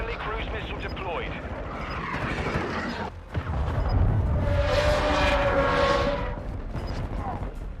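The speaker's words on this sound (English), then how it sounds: "Friendly cruise missile deployed." Cruise missile strike in Call of Duty: Modern Warfare II multiplayer, with heavy rumbling explosions and a rushing roar swelling midway, while game voice lines play over the top.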